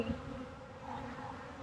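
Honey bees buzz around an open beehive, a steady, fairly quiet droning hum from many insects close by that holds without a break.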